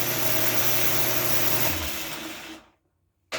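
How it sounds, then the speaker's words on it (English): A metal lathe runs with its half nut lever engaged, a steady loud mechanical whir with a low geared hum that winds down and stops near the end, leaving near silence. "So yeah, that's a lathe."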